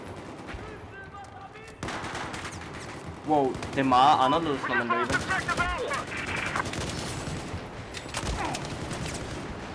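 Rapid automatic AK-12 rifle fire in Battlefield 4 gameplay, bursts rattling loudly through the middle of the clip amid game effects, with someone talking over it.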